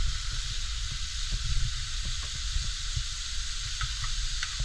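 Steady loud sizzling of adobo in a hot pan as chili is added, a continuous hiss with occasional small pops and stirring clinks, no voices.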